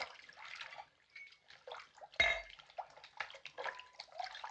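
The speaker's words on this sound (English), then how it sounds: "Fill that up with rum." Rum is poured into a container in a 1937 crime drama, giving a faint, uneven trickle and splash against a quiet background, with one brief sharper clink partway through.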